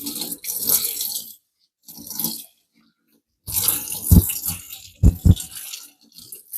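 Running tap water splashes in bursts over a 45-layer steel kitchen knife being washed with soap in a sink, with two short pauses and a few louder knocks and rattles near the end.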